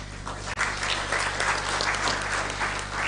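Sustained applause from a conference audience for a discussion panel at an East African meeting, a steady dense clatter of clapping running the full length with a brief dip early on.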